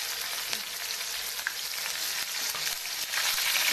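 Green chillies frying in a pan, a steady close hiss of crackling oil that grows slightly louder toward the end, with no voices.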